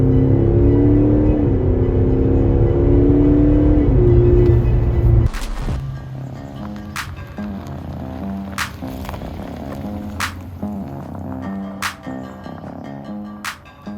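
An Audi SQ5 sport diesel engine accelerates hard, a deep, loud rising growl like a V8 for about five seconds, then drops to a quieter, lower rumble with a few sharp clicks.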